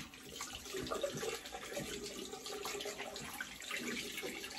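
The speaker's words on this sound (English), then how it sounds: "Let me just rinse my hands." Tap water runs steadily into a sink while hands are rinsed after a razor shave, a soft continuous splashing hiss at low level with no talk.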